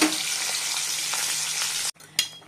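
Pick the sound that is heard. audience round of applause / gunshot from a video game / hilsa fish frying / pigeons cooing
hilsa fish frying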